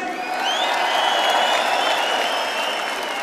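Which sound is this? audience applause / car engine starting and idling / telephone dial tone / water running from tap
audience applause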